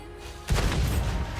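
A single heavy cannon blast from a tank in World of Tanks, a sudden loud boom followed by a short rumbling tail with nothing before it.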